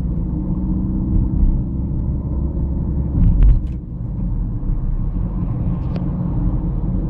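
Car interior engine rumble, steady and low as the vehicle drives and speeds up on a city street, with a brief thump and a couple of faint clicks partway through.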